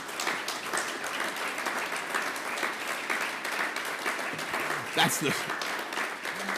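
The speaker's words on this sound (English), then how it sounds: "feel free to applaud" Steady audience applause rolls through the hall during the Prime Minister's speech in Manchester, a continuous moderate wash of clapping with a voice briefly rising over it near the end.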